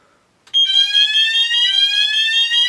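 A C-tec fire alarm system sounds after a smoke detector test, cutting in abruptly from near silence into a loud, continuous, piercing electronic tone that shifts pitch slightly and carries on steadily.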